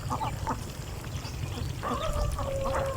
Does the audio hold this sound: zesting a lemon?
no